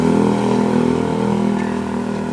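An odong-odong ride vehicle's engine runs steadily and loudly up close, a continuous droning, throbbing motor with no talk over it.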